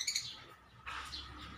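Lovebirds chirping at close range, a quick cluster of high bright tweets at the start and another burst of calls about midway, over a quiet outdoor background.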